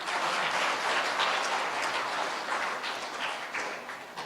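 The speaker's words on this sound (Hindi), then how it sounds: "तालियां मारिए।" Audience clapping at a spiritual satsang gathering, a steady broadband patter of many hands that holds fairly loud throughout and tapers slightly toward the end, with no speech over it.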